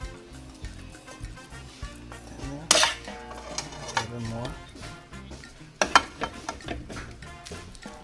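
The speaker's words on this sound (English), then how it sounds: "let's go ahead and serve ourselves." Dishes and cutlery clink while food is served from a budget pantry-cooked meal, with a couple of sharper clatters standing out among softer scraping and handling noises, all close by.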